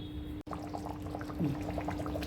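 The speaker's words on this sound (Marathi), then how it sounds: "ह्याच्यामध्ये मी एक ग्लास पाणी घालते आहे थोडं मटण मऊ होण्यासाठी" Water is poured into a pot of cooking mutton curry with a brief liquid splash and gurgle, followed by soft sizzling and bubbling.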